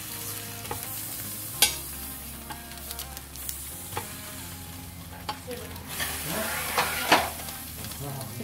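Pepes tuna wrapped parcels being turned over on a grill, with faint hissing and sizzling broken by a handful of sharp knocks and scrapes as they are flipped, close by and mostly without talk.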